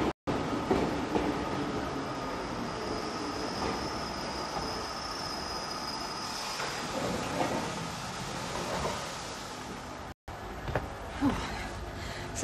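A London Underground tube train runs with a continuous rumbling roar, a high wheel squeal partway through and scattered rattles, heard from inside the carriage.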